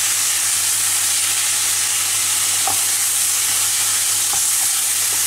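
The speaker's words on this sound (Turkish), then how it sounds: "hiç yağ koymadan direkt sadece sürmeyi kavuruyoruz" Ground meat filling for Turkish karnıyarık pan-roasted without any oil, a loud, continuous dense sizzle and hiss with occasional faint stirring scrapes.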